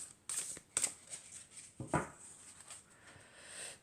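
Tarot-style healing cards handled at close range: a few crisp papery slaps and flicks, then softer rustles and slides as cards are shuffled and drawn, quiet and alone.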